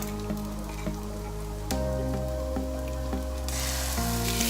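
Onions and garlic sizzle in a pan with a soft, steady frying hiss and scattered pops, while a faint background hum runs underneath.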